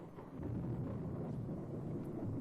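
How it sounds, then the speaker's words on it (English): Thunder and rain in the horror game Corpse Party, a dark school corridor at night: a low, steady rumbling wash of storm noise that swells after a quiet start and holds, with no talking. "As the thunder and rain grow in intensity,"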